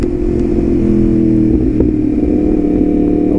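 A Yamaha R1 sport motorcycle engine running close by, a loud, steady, throaty drone with slight rises in revs and no voices.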